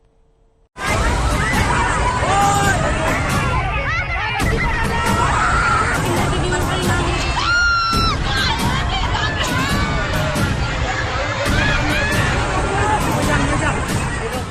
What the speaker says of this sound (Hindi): पानी की लहरों का हाहाकार और चीख पुकार